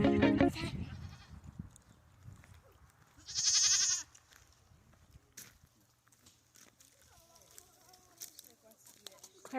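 Nigerian Dwarf goats bleat on a spring farm while being brushed during winter shedding. A loud, close bleat comes at the start and another sharp cry around the middle over quieter farmyard noise and faint chatter.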